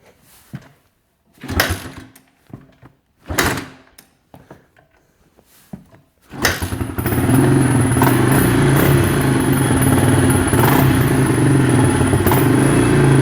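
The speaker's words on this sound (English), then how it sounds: "Let's start her up and hear her run." A 2001 Kawasaki Mojave ATV engine is cranked with a few short clattering bursts, then catches and settles into a loud, steady idle that runs for the remaining seconds with no talking.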